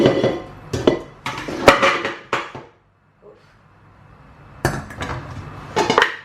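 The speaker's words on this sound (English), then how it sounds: "Now I'm going to put this back in the pot." Beef marrow bones clatter and knock as they are dropped back into a metal stockpot for broth, a run of loud close clanks and scrapes, a short quiet pause, then another burst of clunking.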